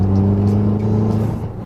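Turbocharged Mazda engine fitted with unequal-length headers, idling with a low, steady, uneven rumble up close, alone and without talk.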